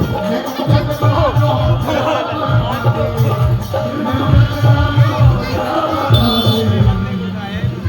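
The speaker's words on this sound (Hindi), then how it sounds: "देखो कितनी भीड़ आ रही है, पूरी भीड़ हो रही है" A packed crowd fills a Hindu temple on the fourth night of Navratri during a mata ki chowki. The dense, continuous din of many voices mixes with rhythmic low, throbbing beats, loud and close throughout.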